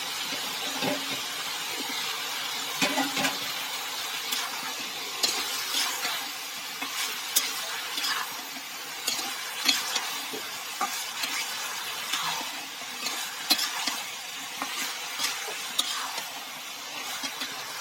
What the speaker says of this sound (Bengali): একটু কষাই নেব। সবজিটা কষানো শেষ।